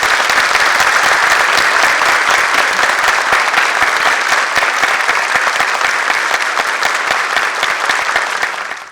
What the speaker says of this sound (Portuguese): Então eu pediria a vocês uma calorosa salva de palmas.